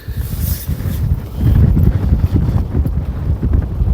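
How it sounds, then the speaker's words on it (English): Strong wind blowing at a winter carp fishing lake in Shropshire, buffeting the microphone with a deep, gusty, continuous rumble that rises partway through; no talking. "Well, that wind has certainly picked up now this morning."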